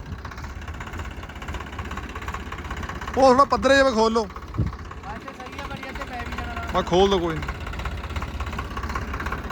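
A tractor working with Protek 855 and 275 implements gives off a steady, low engine drone, while people talk nearby over it.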